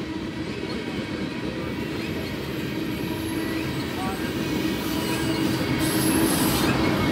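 A Norfolk Southern freight train rolls past with heritage-painted locomotives, a steady loud rumble of wheels on rail with squealing and a faint clickety-clack, continuous and close throughout.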